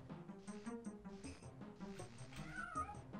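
A cat meows in the video game Daggerfall, several drawn-out, wavering cries over a steady game background, close and fairly loud, with no talking.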